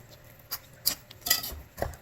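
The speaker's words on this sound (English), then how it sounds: "I'm just mixing it up in the pan" Quiet, irregular scraping and clinks of a utensil stirring white beans in a pan, a few soft strokes spread over a couple of seconds.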